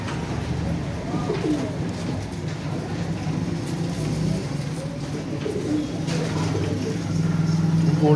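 Golden-eyed breeder pigeons coo softly and repeatedly at a pigeon seller's in Faisalabad, over a continuous rumbling background.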